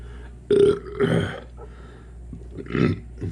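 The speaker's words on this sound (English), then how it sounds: "I'm burping because I just ate a sandwich" Several deep, croaky burps come one after another at close range, separated by short quiet gaps.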